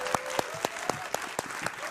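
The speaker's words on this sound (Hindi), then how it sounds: "तालियों के साथ आप दोनों का बहुत बहुत स्वागत है।" Studio audience applause on a Hindi TV debate show welcomes two guests: a steady run of sharp, evenly spaced claps, almost rhythmic, with a faint crowd murmur beneath.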